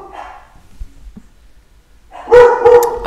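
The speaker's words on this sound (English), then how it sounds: "My dogs are barking." Dogs bark indoors in a sudden cluster of loud, close barks and yips near the end, after a stretch of near silence with a faint voice at the start.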